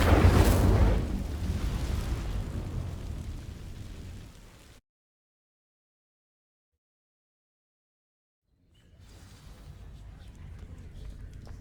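The Incendio fire spell igniting dry vines in Hogwarts Legacy, a loud roaring whoosh of flame that fades out, followed by silence and a faint rumble returning.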